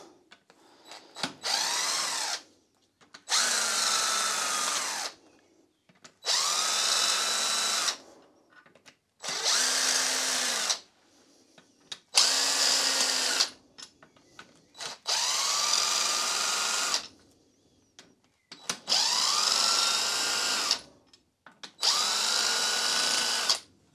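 Power tool running in eight or nine steady bursts of a few seconds each, separated by short pauses, as big end cap bolts are removed from a Mini Cooper engine block, close and loud with no speech.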